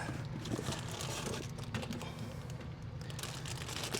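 Plastic packaging crinkles steadily and close by as a new SWG-100 pump is unpacked, a dense crackling rustle that runs without a break for about four seconds.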